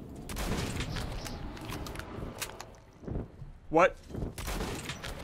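Rapid gunfire in the post-apocalyptic shooter Metro 2033 Redux, bursts of shots over game ambience with a brief sharp metallic sound, and a voice speaking briefly.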